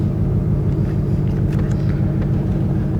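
A manual transmission car engine runs steadily as the driver gives it a little gas, a close, loud, even rumble that holds throughout with no talking over it.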